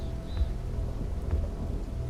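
Thunderstorm in the alien-planet survival game The Signal: steady heavy rain hiss with deep low rumbles of thunder swelling twice, moderately loud, no voices.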